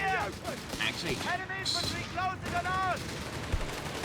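Machine gun fire from the real-time strategy game Company of Heroes 3, rapid bursts of gunfire in a busy battle mix under a commentator's voice.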